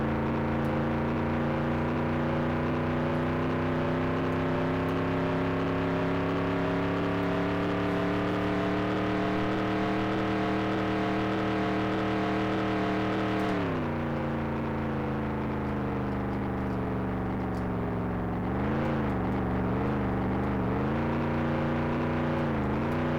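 Several race cars in NASCAR 98 at the California Speedway in Fontana, engines droning in a steady high whine that shifts pitch as the cars pass together, loud and continuous throughout with no talk.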